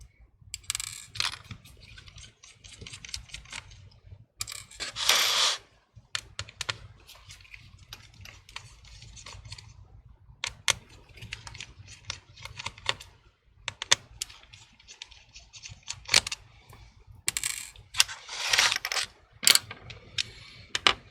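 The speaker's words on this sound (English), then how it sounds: "Using a Torque T8, removing the screws, getting ready to remove the entire screen out." A Torx T8 screwdriver backs screws out of a MacBook Pro A1706 laptop: close, small ticking and scraping metal clicks in irregular runs, with a few sharper rattling bursts.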